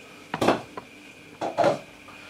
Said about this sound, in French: Je prends ma marmite.